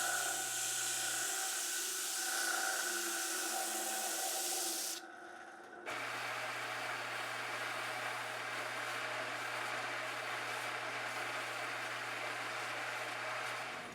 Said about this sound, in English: We're back over to the stationary disc sander with the air switch.